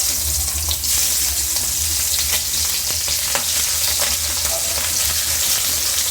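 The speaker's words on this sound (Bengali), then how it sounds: "আমি মাছগুলো ভেজে নেব।" Tengra fish, coated in salt and turmeric, frying in hot oil, a loud, dense, unbroken sizzle close up, with a few faint clicks underneath and no speech.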